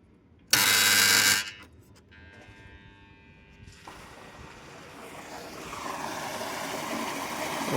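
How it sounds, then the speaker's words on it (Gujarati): A farm water pump motor starts with a loud, brief whirring burst, then settles into a softer, steady running hum that grows gradually louder. "આપણે મોટર ચાલુ કરી દીધી."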